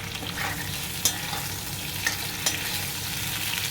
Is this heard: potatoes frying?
yes